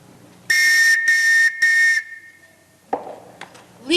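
Sharp, shrill whistle blasts in a high school stage musical of The Sound of Music: three loud, short bursts in a row, followed by quieter rising chirps and stage noise, heard near.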